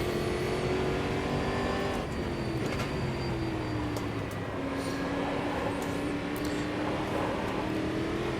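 A GT3 race car engine drones steadily in Automobilista 2, a loud continuous tone rising and falling gently with throttle and gear changes, heard alone without talk.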